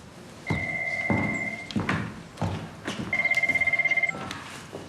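An old-style telephone bell rings in two distinct bursts of steady trilling, moderately loud and close, with brief thumps and room noise between the rings.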